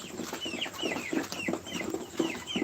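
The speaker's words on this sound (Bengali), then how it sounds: "এইগুলো মুরগি কিন্তু আমার খুব শখের মুরগি" Tiger breed chickens cluck steadily nearby, short calls repeating every half second or so against a soft farmyard hum.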